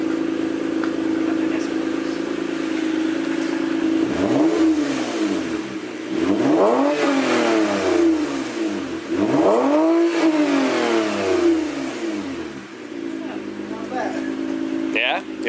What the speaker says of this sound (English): that's how the car sounds now that the exhaust is on the outside